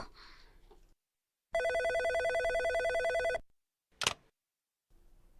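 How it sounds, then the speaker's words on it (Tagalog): A telephone rings with a long electronic trill, falls silent, then gives a brief second ring; quiet room noise before and after. "May tumatawag sa telepono."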